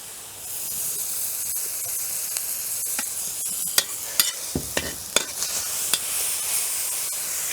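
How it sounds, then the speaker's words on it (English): Olive oil sizzling hard in a pan, a continuous close hiss punctuated by a string of sharp clicks and taps in the middle, with no talking. "you want to have that sizzling sound, not boil"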